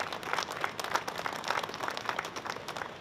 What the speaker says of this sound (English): now is when you really need to clap